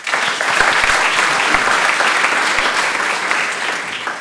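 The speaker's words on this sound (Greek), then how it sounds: "Και με το χειροκρότημα, άλλο ένα μεγάλο χειροκρότημα για τους τεχνικούς που είναι εδώ πίσω μας" Loud, sustained applause from a large audience at a songwriters' music event, dense and steady throughout, with a few heavier claps popping out close by.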